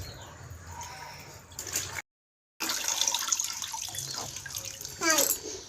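A small child splashes and swishes clothes by hand in water, with irregular sloshing and dripping, a brief gap of silence, and an adult's voice talking softly in the background.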